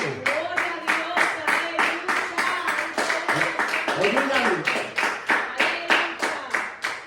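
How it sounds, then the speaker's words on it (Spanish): A church congregation claps together in a strong, steady rhythm of loud, close handclaps, with voices and singing carrying along underneath the beat. "Denle un fuerte aplauso."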